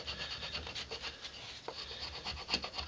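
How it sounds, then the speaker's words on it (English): An axe blade scrapes along wood while carving a spoon, making a steady, faint, rasping rub that repeats in short strokes, up close with no talk. "using my axe and scraping it along, I can actually get pretty much any shape I want"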